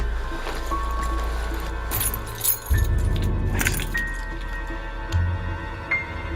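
Car keys jangling and clinking close by in several bursts of handling, over a steady low engine-like rumble.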